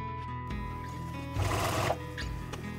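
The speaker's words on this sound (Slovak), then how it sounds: "Pokiaľ chceme šiť rovno, všímame si, Ako ďaleko je ihla od kraju látky." Sewing machine stitching trouser fabric, a steady mechanical hum rising into a louder half-second run of rapid stitching, then settling back, heard close.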